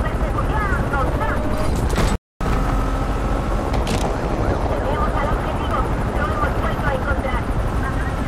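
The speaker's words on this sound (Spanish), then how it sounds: "¡El helicóptero se une a la persecución!" Police helicopter in the Need for Speed racing game joining a high-speed pursuit of a Nissan GT-R: a steady rotor and engine roar holds throughout under game music and sirens, with a brief dropout near the start.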